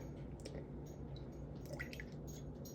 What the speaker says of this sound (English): And this is just room temperature water.